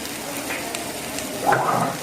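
Skinless chicken pieces are added to a hot pan with other ingredients for a chicken curry with coconut milk. Steady sizzling swells into a louder hiss toward the end.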